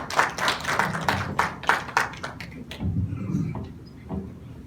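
Forum audience claps to welcome a museum arts educator, a burst of fairly close, distinct hand claps that thins out after a few seconds, leaving quieter room sounds.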